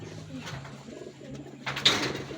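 Faint racing pigeon sounds at a pigeon race derby over a low background hum, ending with a short, sharper bird call and a burst of fluttering noise near the end.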